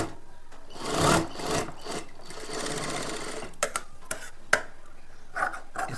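A sewing machine stitches a straight seam on a blouse, with a couple of whirring runs up close followed by scattered clicks and taps of handling the fabric and machine.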